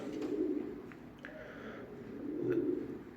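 Soft, low coos of Apaçi pigeons rise and fall twice in a quiet coop enclosure, with faint rustling in the background.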